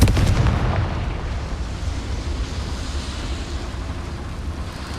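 A Confringo fire spell from a Harry Potter video game goes off as one loud, booming blast at the start, then a rumbling roar of debris that fades slowly and carries on steadily, with no talking.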